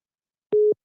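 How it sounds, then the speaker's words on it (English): A single short telephone tone burst, a steady electronic beep about a fifth of a second long, sounds on a call-in radio program line after the call was answered. It is clear and alone against silence. "I answered it, but it's still ringing."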